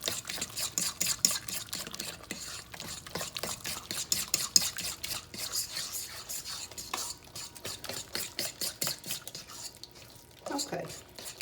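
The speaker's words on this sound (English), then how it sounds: "So get them all kind of stirred up together." Cabbage, tomato and sausage stirred together in a pan, with soft repeated scraping and clinks of the utensil against the pan, fairly quiet and close.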